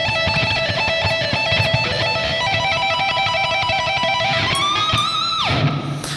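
A heavily distorted electric guitar plays a fast, repeating three-note lick from a solo, loud and dense, ending with bends and a sharp downward dive.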